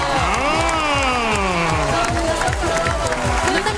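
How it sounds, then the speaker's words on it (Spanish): Studio audience on a Mexican TV variety show cheers and applauds loudly for a guest host, the clapping and shouts running continuously under upbeat music and excited voices. "¡Un aplauso para Maritela Alessandri!"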